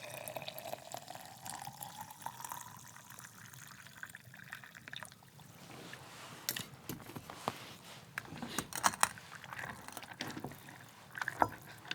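Boiling water poured from a container onto a pasta mix in a food thermos at a winter wilderness camp: a faint, close trickling stream with a rising fill tone, then irregular splashes and clinks.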